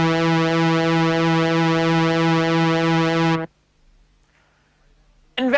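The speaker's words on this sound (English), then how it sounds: "This is called pulse width modulation, and it sounds like this." Synthesizer pulse wave with its width swept by an LFO, a steady buzzy harmonic tone held for about three and a half seconds, then cut off to near silence before a brief burst returns at the end.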